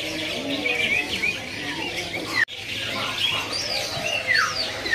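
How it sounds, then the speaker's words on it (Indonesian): Petet kembang birds, male and female, at a bird kiosk, give a run of thin high chirps and whistled calls, moderately close, with one sharp break midway. "Di sini ada burung petet kembang betina jantan ya."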